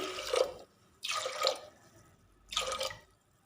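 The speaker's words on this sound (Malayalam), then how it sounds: "ഇത് നമുക്ക് കുക്കറിലേക്ക് ഒഴിച്ചു കൊടുക്കാം." Coconut milk is poured into a pressure cooker in three separate short splashing bursts with quiet gaps between them, close and fairly soft, with no talking.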